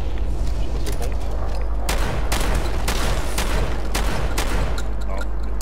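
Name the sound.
scoped rifle shots at scorpion rats in video game Fallout 4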